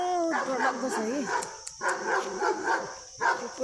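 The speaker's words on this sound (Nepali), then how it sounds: "कुकुर, हेर्नु न।" A dog barks and yips in a few short, close bursts with whimpering tones between, near a person who is wary of it.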